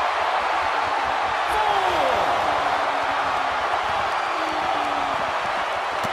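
A steady arena crowd roar fills a WWE 2K18 tag-team match between Alicia Fox & Dana Brooke and Bayley & Sasha Banks, with occasional dull thuds from the ring underneath.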